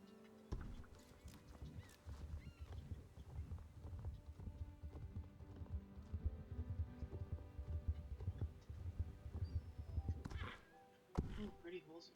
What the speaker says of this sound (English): Oh, pretty horse.